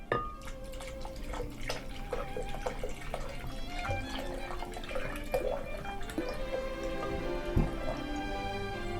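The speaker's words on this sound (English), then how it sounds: "We add spring water" Spring water poured into a blender, a continuous splashing and dripping pour with scattered droplet ticks, moderately loud and close, with no talk.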